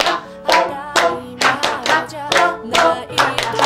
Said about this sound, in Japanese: 最後は手拍子で終わりたいと思います